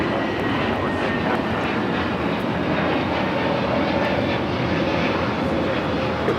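Jet engines of a Boeing 787 Dreamliner in special livery at Los Angeles International Airport give a constant, dense roar from a fair distance, loud and unbroken throughout.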